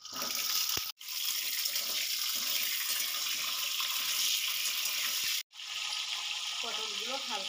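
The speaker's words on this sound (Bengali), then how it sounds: "তেলের মধ্যে দিয়ে দেবো অল্প পরিমাণে লবণ, দিয়ে এই পটলগুলো হালকাভাবে আমি ভেজে নেব" Pointed gourd pieces frying with a little salt in lightly heated oil in a pan, a steady, loud hiss and sizzle that runs almost unbroken, with two brief drops to near silence.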